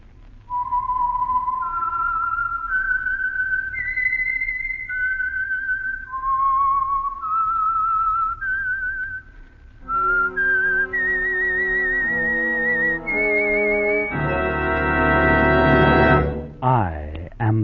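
A lone whistled theme tune for the Signal Oil radio program The Whistler, a slow eerie melody of sustained notes stepping up and down, ending in a swelling orchestral chord.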